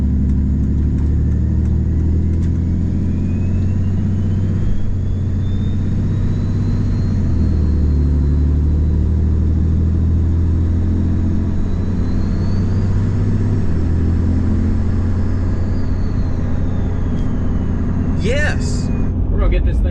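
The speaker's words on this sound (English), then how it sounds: "one of the huge perks of a Cummins is the freaking exhaust note is diabolical." A Cummins diesel truck rumbles steadily for a long stretch while accelerating, a deep low exhaust drone with rising and falling tones, loud and close throughout.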